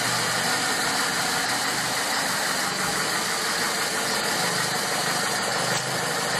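Restored 1973 VAZ-2103 (Lada) car engine running after start-up, a dense steady idle roar with a faint knocking texture, close and loud throughout, no speech.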